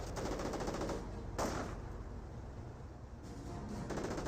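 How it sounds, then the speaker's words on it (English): MG42 machine gun fire in a Company of Heroes battle: a dense, continuous rattle of rapid bursts that sounds close and loud, with a sharper crack near the middle and no talking. "They've got MG42s down right here as well"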